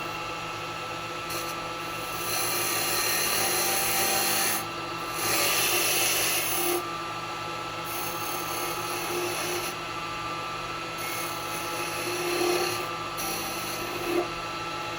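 Woodturning tool cutting the bottom of a wooden ring holder spinning on a lathe: a continuous rough, hissing scrape that swells and fades in several passes over a steady motor hum.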